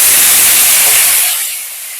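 Salted leafy greens go into hot tempering oil in a pan and set off a loud, broad hissing sizzle that covers the whole moment, then eases down over the last second.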